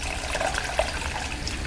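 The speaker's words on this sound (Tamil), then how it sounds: "இந்த டைமில் நம்ம ஆல்ரெடி கரைச்சி வச்சுருக்கிற புளி தண்ணியை ஊற்றிடலாம்." Tamarind water poured into a pan of fish curry, a steady close liquid trickle and splash without voices.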